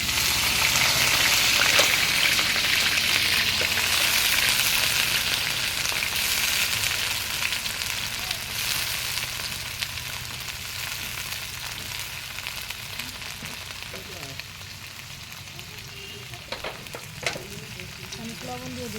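Onions and green chillies sizzling in hot oil for a dried-fish chachchori, a loud, steady broadband fry that slowly eases in level, with a few stirring clinks near the end and no talk.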